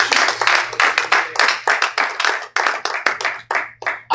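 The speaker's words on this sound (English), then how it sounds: "Clap your hand for Jesus." A church congregation claps hands together in a quick, loud, steady rhythm of sharp, close individual claps, with a faint hum running beneath.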